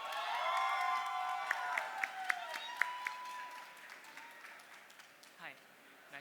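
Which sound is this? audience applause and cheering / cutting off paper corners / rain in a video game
audience applause and cheering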